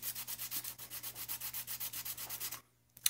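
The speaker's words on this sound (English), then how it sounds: "I'm going to keep sanding" Fast, even sanding strokes on an old AMT model kit part, about twenty regular rubs close by, then stopping abruptly into near silence with a small knock.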